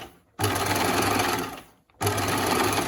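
A sewing machine stitches a seam on a V-neck bound edge in two quick bursts of rapid, steady mechanical whirring, close and loud, separated by a short pause.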